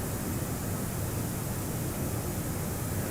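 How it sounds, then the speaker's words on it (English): Steady, broadband engine drone of an Airbus A340-600 in the X-Plane 11 flight simulator, cruising on a London Heathrow to Washington-Dulles flight; a constant, even noise with no variation and no speech. "I'll certainly not miss this droning white noise from the engines"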